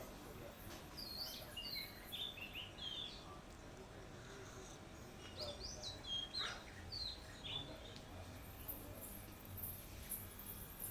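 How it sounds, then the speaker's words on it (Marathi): Scattered high bird chirps and short calls ring out over a steady outdoor background hum, coming in small bursts from a moderate distance. "पक्षी बघ ना आवाज बघ पक्ष्यांचा"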